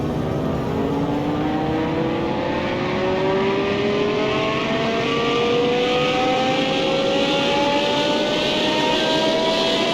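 A simulated car engine revs steadily on a dyno in Car Mechanic Simulator 21, its pitch climbing smoothly and continuously in one long loud pull with no pauses.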